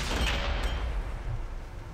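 A tank in World of Tanks fires its main gun, a single loud, close boom that opens the moment and then rumbles away into a noisy tail.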